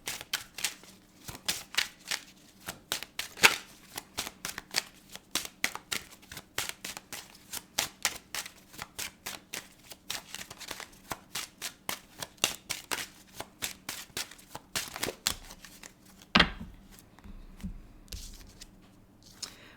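A witch oracle card deck is shuffled by hand in a long run of quick, crisp riffling flicks and soft slaps, close and fairly quiet, with a louder rustle near the end and no talk.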